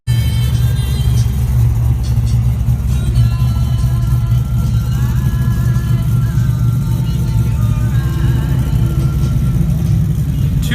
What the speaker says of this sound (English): Two Mustangs passing in the night.